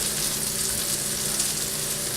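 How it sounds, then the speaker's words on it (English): Steady, close frying sizzle of a Juicy Lucy burger in a pan over lowered heat, a constant crackling hiss with no talking. "watching a burger sizzle for a long, long time"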